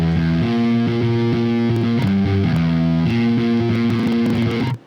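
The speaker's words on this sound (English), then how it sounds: "Just listen to our distorted bass." A heavily distorted bass plays a steady, driving punk line with repeated notes that shift pitch a few times, loud and gritty, stopping abruptly at the end.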